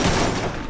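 Rapid burst of video game gunfire in Free Fire, dense and loud, sustained through the short clip with a slight fade at the end.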